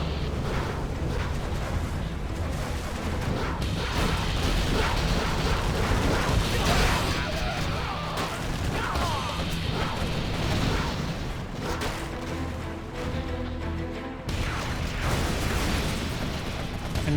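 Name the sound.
Tomahawk missile explosions in Command and Conquer Generals video game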